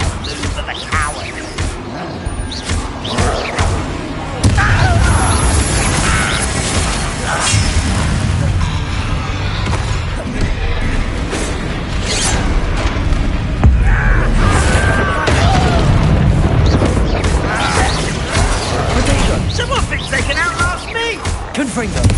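Confringo fire-spell blasts in the Hogwarts Legacy video game, repeated booms and crackling bursts through a dense, loud battle mix with heavy shouted talk and spell-casting voices over most of the stretch.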